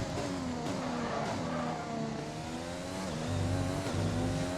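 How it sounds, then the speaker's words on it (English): An F1 race car engine in F1 2020 drones at high revs with shifting pitch, heard close and steady throughout, rising slightly toward the end. "I'm so impressed by how the car is driving"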